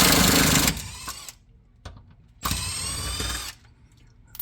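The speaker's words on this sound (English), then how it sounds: "I got my impact with 13. And I gotta take off the old bolts." Impact wrench with a 13 mm socket on its lowest setting removing old bolts under a 2020 Camaro SS, two separate loud rattling bursts with short quiet gaps between, close up.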